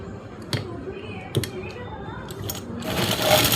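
A sewing machine stitching fabric for an Afghani salwar runs in a steady mechanical hum, with a few sharp clicks and a louder, brighter whir toward the end.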